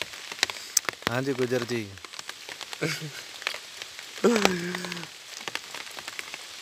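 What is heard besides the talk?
rain falling outside a shelter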